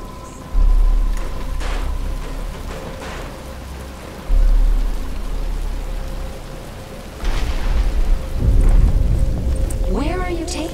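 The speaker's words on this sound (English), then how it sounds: "But it's starting to rain." Steady rain falls in Batman: Arkham Asylum, a constant wash of downpour with low rumbling thumps, while characters talk over it near the end.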